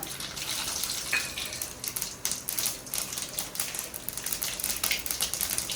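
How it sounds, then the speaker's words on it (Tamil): Mustard seeds crackle in hot oil, a dense rapid patter of small pops and spits over a continuous sizzle, close and steady throughout, with no one speaking. "எண்ணெய் நல்லா காயிட்டோம் கொஞ்சமாக கடுகு போட்டுக்கோங்க"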